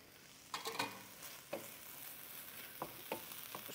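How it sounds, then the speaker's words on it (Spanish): Tomatoes frying in a pan for a home-style meat and egg burrito recipe, a soft steady sizzle broken by several sharp scraping clacks of a utensil stirring, close and fairly quiet. "vamos a seguirle acá poniendo el tomate"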